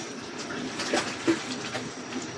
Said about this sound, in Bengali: মাংসে পানি দেওয়া হচ্ছে